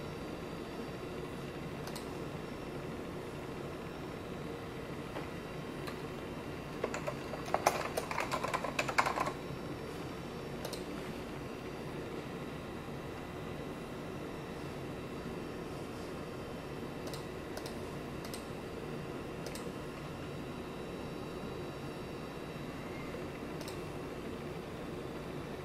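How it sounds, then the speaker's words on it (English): Keys on a computer keyboard tapped in a short cluster of quick presses mid-clip, used with an Apple Power Macintosh 8500/120 running System 7.5.5, set against a steady background hum. "I'm using the arrow keys now just to move through the contents."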